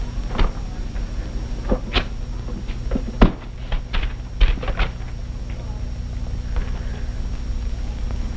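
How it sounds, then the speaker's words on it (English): Manual typewriter keys strike in an irregular run of sharp clacks, with a few louder hits mixed in, over a steady background hum in an old Hollywood film scene. "parking that globe-trotting carcass of yours at yon typewriter and knocking out about 3 sticks on the Allison reception."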